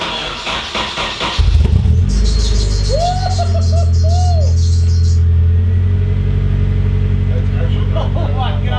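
A Nissan S13 240SX fitted with an HKS Hi-Power exhaust starts and idles with a deep, loud, steady rumble close by, while birds coo faintly in the background.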